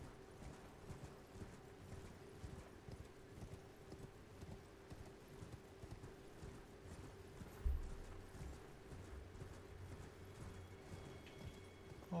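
Horse hooves gallop steadily in Elden Ring, a continuous rhythmic clip-clop running the whole time over a low hum, with one heavier thud near the middle.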